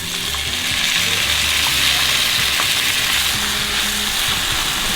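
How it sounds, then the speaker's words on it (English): Tomatoes frying over a high flame in a pan of garlic cooked until nearly crispy, for a prawns-in-tomato dish: loud, continuous close sizzling with a steady hiss and faint scraping underneath, and no one talking. "So now that our garlic is so well cooked and is nearly crispy, we're going to be adding tomatoes on a really high flame."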